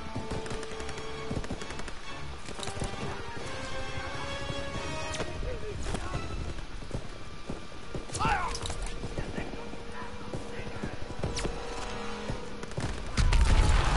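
Machine-gun fire in Call of Duty WWII bursts through a dense, loud mix of battle noise, with rapid rattling shots running steadily throughout, layered with other game effects and chatter.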